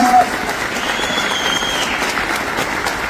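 Applause for employees at a Vestige awards function in Delhi, a dense steady wash of many hands clapping in a large hall, continuous and fairly loud with faint voices underneath.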